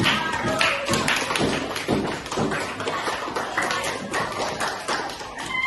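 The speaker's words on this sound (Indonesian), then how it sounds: "Tepuk tangan untuk Gaisan." Classroom students clapping for a classmate, a dense, uneven burst of many hands slapping together, close and fairly loud, lasting several seconds without pause.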